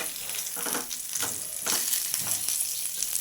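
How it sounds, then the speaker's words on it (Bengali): Eggplant slices coated in rice flour fry in hot oil for a crisp Bengali fritter, a dense crackling sizzle that swells and dips as the pieces are turned, close by and with no voices. "এপিট ওপিট উল্টে পাল্টে আমি ভেজে নেবো"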